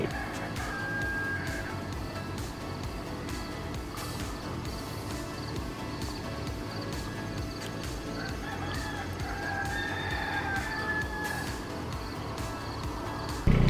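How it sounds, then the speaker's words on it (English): Roosters crowing at a distance over a steady background of insects and ambient outdoor noise, several calls spread across the clip. "you're going to hear the sounds of the roosters crowing and waking you up"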